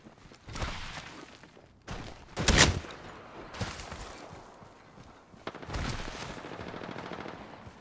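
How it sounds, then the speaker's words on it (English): Rapid automatic gunfire from a video game crackles in several loud bursts, one especially heavy, with quieter stretches of firing between them. "They got more people shooting at them."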